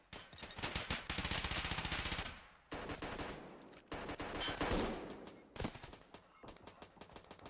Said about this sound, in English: All these bullets firing, nobody actually falls.